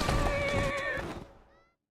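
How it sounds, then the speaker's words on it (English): A horse in Assassin's Creed Syndicate lets out a loud, close whinny with a shrill, wavering tone that trails off and fades to silence, with no voices over it. "Who's a good horse?"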